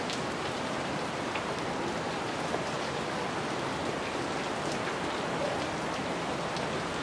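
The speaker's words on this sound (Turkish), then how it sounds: "Dolu yağıyor." Hail mixed with rain pelting down outdoors, a steady dense hiss of impacts with scattered sharper ticks, continuous and fairly loud throughout, no voices.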